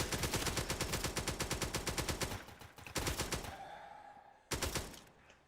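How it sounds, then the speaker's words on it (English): A turret machine gun in the Roblox game Zombie Rush fires a long, rapid burst of evenly spaced loud shots, then falls silent before one brief final burst. "The sounds, at least, sound like a real turret machine gun firing instead of this like a cap gun."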